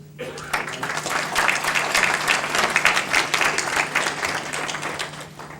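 An audience at a Milaad program in New York applauds to welcome a priest, dense steady clapping filling the room for several seconds with a faint hum beneath and murmuring voices mixed in.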